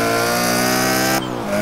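A car engine in the Forza Horizon 3 racing game screams near its 7500 RPM limit, a loud, harsh, sustained high-revving tone that breaks sharply partway through as the revs change.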